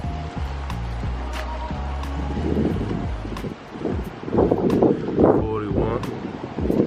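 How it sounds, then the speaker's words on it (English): Wind buffets the microphone in a steady low rumble throughout, with a person talking underneath and faint clicks scattered through. "Sorry about the wind, y'all. It's like super windy out here."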